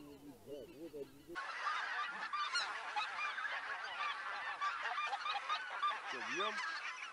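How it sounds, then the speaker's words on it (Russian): A flock of geese honks continuously and fairly loudly during a goose hunt in Belarus, the many overlapping calls forming a dense chorus, with a few deeper goose-like calls near the start and end. "Сзади гуси,"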